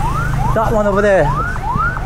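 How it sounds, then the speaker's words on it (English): An ambulance siren wails in a rising and falling sweep as it passes along a busy street, loud and close over steady traffic rumble, with people talking over it. "This ambulance coming."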